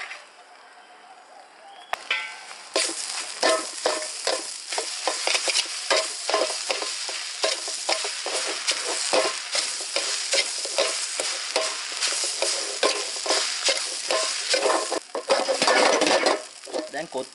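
Kottu with meat gravy being stirred and fried outdoors, with a loud steady sizzle and rapid, repeated scraping of a metal utensil against the pan, up close and continuous.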